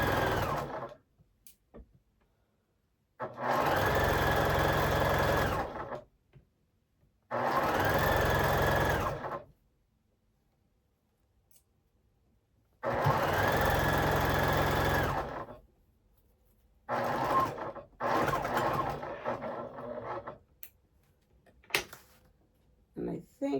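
A sewing machine stitches a quilt block for an album block in several loud, steady bursts of a few seconds each, with quiet pauses and handling noises between the runs.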